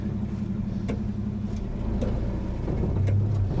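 A Studebaker pickup truck with a worn 258 engine pulls away, a steady low engine drone with a slight rise in load toward the end, close and continuous with no talk.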